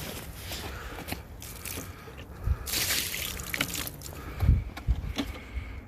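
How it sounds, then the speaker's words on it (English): Water poured over a small ice sculpture of a sleigh outdoors in freezing weather, a faint, steady splashing and trickling with a few soft drips and knocks. "last thing you always want to do when you're done is pour water over it."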